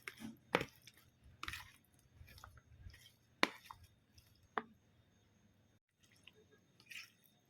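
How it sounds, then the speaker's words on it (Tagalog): Vegetable salad ingredients being tossed with boneless bagoong and vinegar, heard as a few sharp wet squishes and clicks between stretches of faint, soft stirring in a quiet setting. "Tapos, sahaluin lang natin itong mga sangkap."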